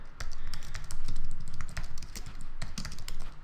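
Rapid typing on a computer keyboard, close and clear, with bursts of clicking keys and brief pauses, no voices.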